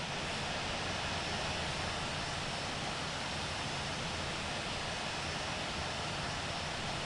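Boeing 747-200 jet engines in the Infinite Flight game rumble with a steady, dense broadband roar while taxiing at San Diego, an even, unbroken drone throughout.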